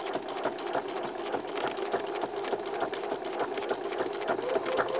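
Close, steady whir of a sewing machine stitching through a quilted fabric cookie, its rapid needle rhythm running continuously with no talking.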